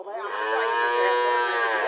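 A single close, loud, drawn-out moo from a cow at a village cattle market, held steadily for nearly two seconds.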